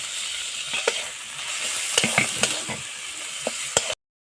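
Tomato, chili powder, cumin powder and salt fry in oil for a rohu fish curry, a close sizzle broken by repeated spatula scrapes and knocks against the pan, then cutting off abruptly.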